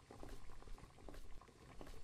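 Water boiling with noodles in a pot in a horror video game, a steady bubbling and pattering roll that holds at moderate level throughout, with no talk over it.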